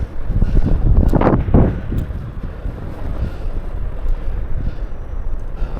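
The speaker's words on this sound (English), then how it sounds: "We got some high winds today" Strong wind gusting about 15 to 20 mph buffets the microphone in a loud gust beside a river, then settles into a steadier rushing roar.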